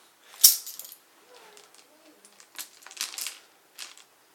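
Loose foreign metal coins from a dice unboxing clink and rattle close by, a sharp jingle first and then scattered small taps and shuffles as they are handled, with no talking.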